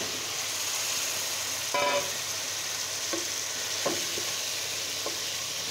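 Cut bottle gourd goes into spices frying in oil in a pan, giving a steady close sizzle with a few brief stirring clatters and no voices.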